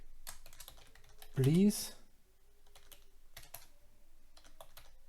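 Typing on a computer keyboard: scattered, quiet key clicks in irregular bursts at close range, with a brief spoken word in the middle.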